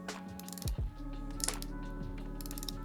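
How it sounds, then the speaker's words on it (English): 120-click bezel on a Tennet Argonaut watch being rotated, a rapid run of fine ratcheting clicks heard close up and quiet, following a couple of brief handling knocks. "Sounds like a 120 click bezel."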